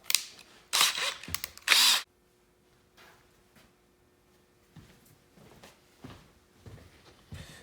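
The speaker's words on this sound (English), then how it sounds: "If the drill bit drags on its way out, you can always reverse the drill and back out." A power drill whirs in short, loud bursts up close while drilling into wood, then stops, leaving faint handling noises and quiet clicks.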